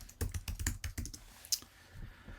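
A quick burst of close keystrokes on a computer keyboard as a query is typed, followed by a single sharper tap and then near silence.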